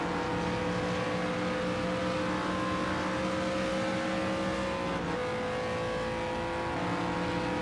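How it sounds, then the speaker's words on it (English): GT3 race car in a Daytona racing video game, a loud, sustained engine roar with shifting tonal drones as the revs rise and settle, continuous throughout with no talking. "Why is that car so loud for being so far back?"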